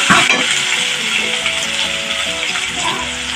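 Spices frying in hot oil for an Assamese fish curry, a close, continuous sizzle with clattering stirring against the pan and no talking.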